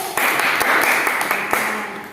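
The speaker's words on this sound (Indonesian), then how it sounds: "Tepuk tangan dong untuk kelompok 1." A classroom of students applauds a presenting group, a dense steady wash of many hands clapping from about 0.2 seconds to the end, fairly loud and close, with no talking over it.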